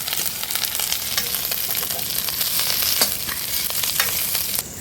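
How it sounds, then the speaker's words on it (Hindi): Food sizzles and crackles steadily in a hot pan, with occasional stirring scrapes, close and continuous without speech. "हल्का सा भूनना है इसको, हल्का सा करना है ब्राउन"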